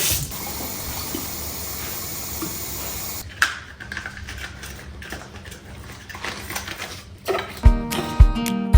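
Vinegar and water poured together into a container for a homemade cleaning mix, a steady hissing liquid stream running for several seconds, then a few louder clunks and handling knocks near the end.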